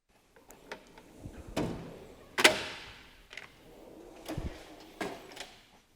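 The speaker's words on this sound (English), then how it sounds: "This is the curly whirly drawer." A drawer of a Snap-on Epiq toolbox opening, heard as a series of sliding rumbles and sharp metallic clacks spread over several seconds, with one loud bang near the middle, close up and without talk.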